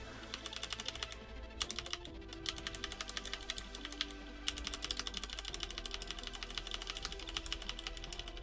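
Steady typing on a standard computer keyboard, with rapid overlapping key clicks and occasional heavier taps, heard fairly close and continuous without speech.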